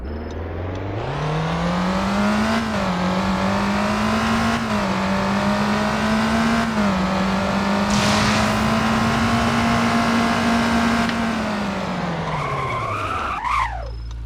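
A Lamborghini Temerario engine in a driving video game revs and holds a high whine, shifting pitch as it accelerates, then winds down with a skidding squeal near the end.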